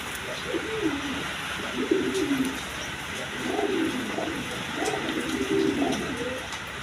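A pair of Gorra pigeons cooing in repeated soft, rolling phrases, a few per second, over a steady hiss of background noise at close range.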